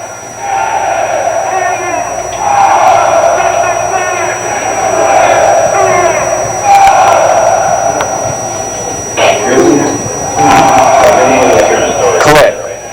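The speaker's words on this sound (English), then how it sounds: "He's just gotten several very loud responses from the crowd." A large crowd shouts together in loud surging waves, several bursts of massed voices rising and falling, with a speaker's voice mixed in.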